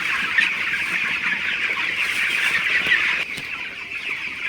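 Broiler chickens in a poultry flock cluck and chatter together in a dense, continuous wash of bird noise, steady and close, with no voices.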